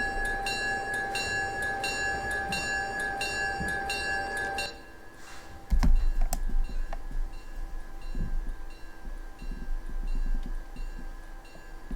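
A loaded coal train in the Railroader game starts off with a steady horn or bell tone, then gives way to a deep, rolling rail rumble with clanks as the cars begin moving.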